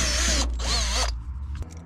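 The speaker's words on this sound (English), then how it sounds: "so I gotta drill it out a little bit" A power drill boring out a hole for a headlight switch on a vehicle whines loudly in two close bursts, then spins down and stops.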